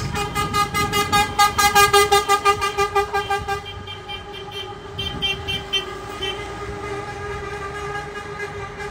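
Scania trucks, including a Gama Super Plus, pass on the road near the Fenatran 2024 show, with a loud pulsing engine roar and strong whining tones that fade as they go by, then another truck approaches.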